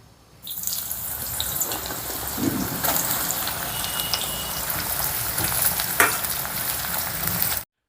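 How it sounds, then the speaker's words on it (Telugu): Bitter gourd pieces fry in hot oil, a dense, steady sizzle with bubbling crackles and an occasional clink of a utensil, close and continuous without talk. "కాకరకాయ ముక్కల్ని చెమ్మ లేకుండా ఇలా ఎర్రగా వేపుకోవాలి"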